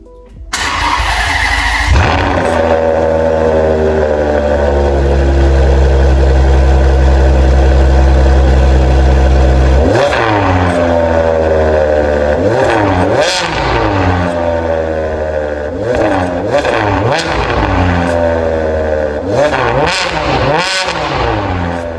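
A Ferrari engine revving hard at high rpm from a close microphone, a loud sustained scream followed by repeated sharp throttle blips rising and falling, with no talking.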